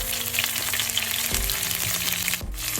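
Mustard seeds, fennel and curry leaves crackle and sizzle in hot sesame oil for a beetroot stir fry, a dense continuous frying hiss with small pops throughout.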